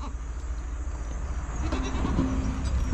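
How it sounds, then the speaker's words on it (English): Farm goats bleat near a barn during chores, with a sustained bleat rising over steady background noise in the second half. "Come on, goats."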